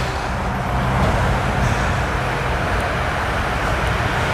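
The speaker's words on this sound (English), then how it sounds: "Sorry if it's a little loud right here. We got a car wash on the left. It's one of the automated ones." An automated car wash runs close by on a city street in Cheyenne, Wyoming, giving a loud, steady wash of rumbling machinery and spraying noise that continues without a break and has no talk over it.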